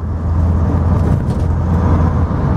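A 1967 Ford Mustang coupe with a 289 V8 roars under kickdown acceleration, a loud steady low engine drone that holds throughout, close and with no talk.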